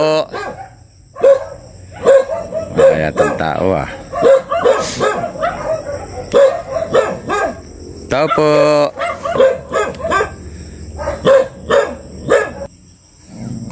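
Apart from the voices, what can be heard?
dogs barking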